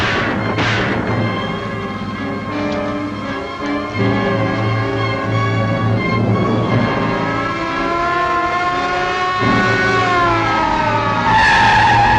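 A car skids hard after its tires are shot out, a 1954 film sound effect: a loud, sustained tire squeal with a rising whine runs for the whole stretch, with no voices.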